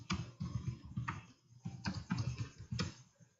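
Someone types on a computer keyboard while editing a spreadsheet, giving close, steady clusters of soft key clicks in quick irregular bursts, with no talk over them.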